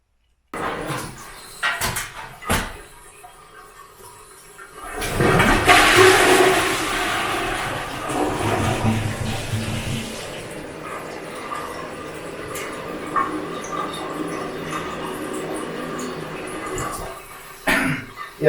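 A high tank toilet converted with ABS or PVC piping flushes loudly, a sudden rushing gush of water that swells and then drains away over several seconds, with clunks before and after.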